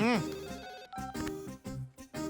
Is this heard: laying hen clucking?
no